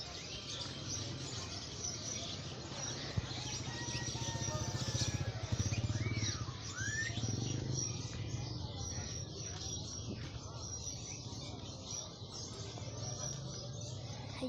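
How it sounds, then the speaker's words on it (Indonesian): Birds chirp and tweet continuously at a bird market in Sukahaji, Bandung, with a dense bustle of calls and market noise and people talking in the background. "jadi ini pasar burung"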